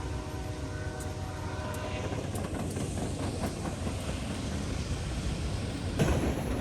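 A speeding freight train rushes past close by with a dense, steady roar of wheels and wagons, holding at a constant loudness with a brief louder burst near the end.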